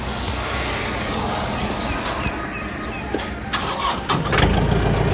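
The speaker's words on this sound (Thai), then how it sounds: "เดี๋ยวเราลองมาสตาร์ทเครื่องยนต์ดูนะครับ" A 2018 Yanmar EF514T tractor's diesel engine cranks and catches near the end, rising into a rough, loud idle after a stretch of low rumbling background noise.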